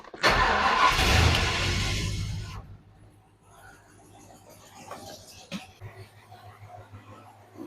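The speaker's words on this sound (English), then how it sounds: "I'm going to start the car" A 1967 Ford Falcon engine cranks and fires loudly, then drops to a steady low idle hum with faint clicks and rattles nearby.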